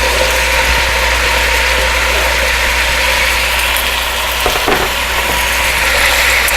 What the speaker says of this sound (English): So I'll add all the veggies.